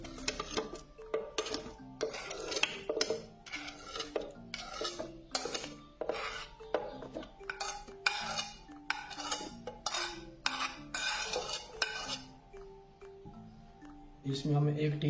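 Cubes of fresh peach drop and tumble into a jug for juice, a dense run of close clinks, knocks and scrapes against the container, continuing steadily for most of the stretch before easing off.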